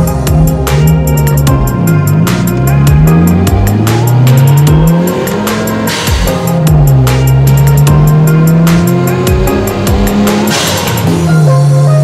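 A Mazda RX7 FC rotary engine, running rich while warming up, idles and revs loudly and close by, its buzzy pitch rising and falling repeatedly with a rapid popping crackle over the steady drone.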